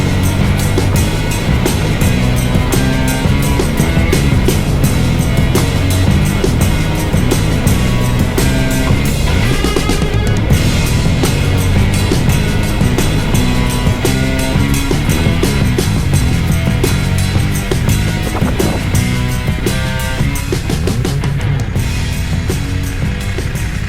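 A BMW F900R motorcycle being ridden gives a loud, steady engine drone with rushing wind and road noise, continuous and close, with no talk.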